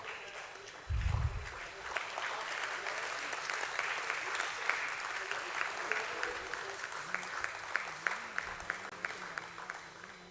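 Audience at a stock exchange listing ceremony applauding, sustained clapping of a large crowd with a low thump near the start, voices faintly underneath.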